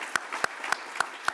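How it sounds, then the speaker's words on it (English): A small scattered clapping for competitors at a high school presentation event, with sharp individual claps spaced roughly evenly and a soft room wash between them, fairly faint. "they deserve, because they gave everything they had, a tremendous round of applause"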